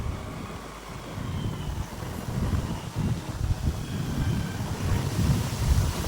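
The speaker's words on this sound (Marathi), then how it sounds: "आता वारा सुटलंय जोरात." Strong monsoon wind buffets the microphone at Sinhagad Fort near Pune, a steady loud rumbling roar that surges and gusts throughout with no voices.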